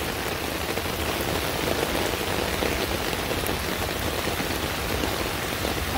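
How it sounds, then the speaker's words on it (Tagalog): Strong floodwater current rushes through a flooded area, a steady, dense broadband roar and hiss that stays even throughout with no voices. "Ang lakas ng agos ng tubig"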